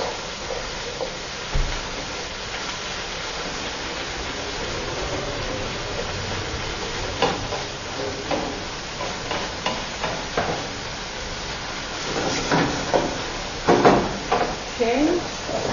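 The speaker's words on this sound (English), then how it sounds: "So, our vegetables are getting cooked." Vegetables fry in a pan for a meatless Lenten dish, a low sizzle under scattered clinks and scrapes of stirring, close by, with occasional background noises and no talking.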